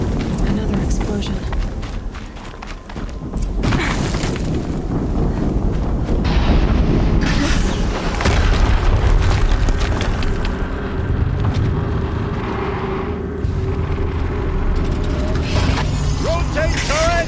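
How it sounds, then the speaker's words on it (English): Explosions in Horizon Zero Dawn erupt as heavy rumbling booms amid loud mechanical game noise, rolling for several seconds with swelling low roar, while a voice talks over parts of it. "Another explosion."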